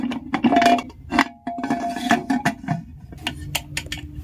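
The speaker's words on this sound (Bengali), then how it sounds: "এবার প্রেসার কুকারের ঢাকনাটা আমি লাগিয়ে দিচ্ছি।" A pressure cooker lid being fitted onto the pot in a home kitchen during cake baking, a run of close metallic clinks and clatters scattered across a few seconds.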